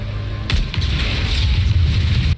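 A heavy explosion from a Westworld episode, a loud booming blast followed by a sustained low rumble and roiling debris noise.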